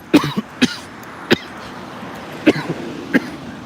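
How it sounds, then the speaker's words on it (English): Several sharp, dry coughs come in short bursts, spaced irregularly, close to the listener with quiet pauses between. "I don't know why I even cough like that"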